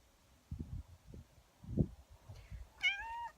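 A house cat gives a single short meow near the end, clear and close, after a few soft thumps and rustles in a quiet indoor room.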